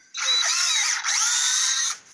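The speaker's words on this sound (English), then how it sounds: "so you drill a hole" A power drill bores a hole into firewood from a kiln, running as one steady whine of about two seconds, close and loud, with a brief dip in pitch midway as the bit loads up.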